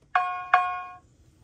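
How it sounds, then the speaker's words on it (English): Two bright, ringing cowbell hits from a sampled hip hop beat, evenly spaced and sustained briefly, clear and alone with no talking. "we got a little cowbell."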